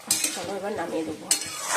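Chicken sautéing in a pan while being stirred with a metal utensil, steady sizzle under close scraping and clinking strokes, with a couple of sharper clanks.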